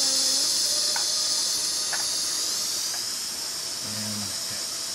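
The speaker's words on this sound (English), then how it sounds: "the pressure relief valve is blowing, indicating that I've got about 35 pounds per square inch of steam in" A steam boiler's pressure relief valve blows off at about 35 psi, giving a continuous loud hiss throughout, with faint brief tones and light knocks underneath.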